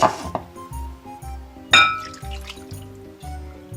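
Vinegar goes into a container while marinating fish, with clinking glass and short liquid splashes and pours in a close, quiet kitchen setting.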